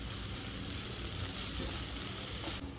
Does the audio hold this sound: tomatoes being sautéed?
yes